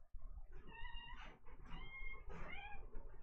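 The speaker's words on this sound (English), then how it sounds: "I think the kitty wants out." A house cat meows repeatedly at a door, wanting to be let outside, with several close, insistent rising cries over faint room noise and no talking.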